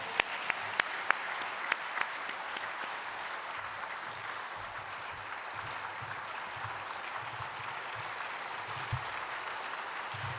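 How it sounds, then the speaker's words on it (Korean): A church congregation at a Korean Full Gospel service claps in welcome for an arriving pastor, a sustained wash of applause at moderate level with a few sharper, closer claps standing out early on. "박수로 환영하겠습니다"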